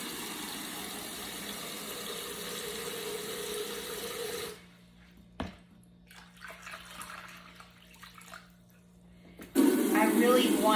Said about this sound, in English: Okay, and I'm gonna add just a little bit more cold water.